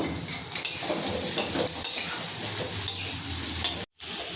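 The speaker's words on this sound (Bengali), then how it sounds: "পেঁয়াজের স্লাইস দিয়ে দিচ্ছি বাঁধাকপি দিয়ে দিচ্ছি গাজর সব আমি সাথে করে নেব" Sliced onion, cabbage and carrot are stir-fried with chopped capsicum for chicken chowmein, a loud close sizzle with spatula scraping and stirring throughout, then a brief cut to silence near the end.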